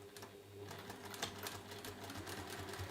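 A sewing machine top stitches down the side seam of a three-pocket tote bag, giving a steady, rapid mechanical chatter close by at low volume.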